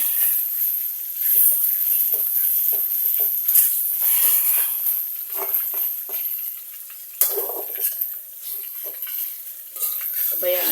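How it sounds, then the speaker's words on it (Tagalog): Moringa pods fry in a little oil in a pan, a close, continuous sizzle broken by repeated scraping stirs of a utensil. "pinafry ko lang siya."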